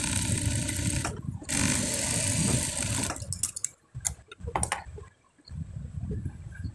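A sewing machine hums in a steady run while stitching the pockets of a child's kabli panjabi, then slows into short stop-start bursts with brief pauses, close and clear with no talk.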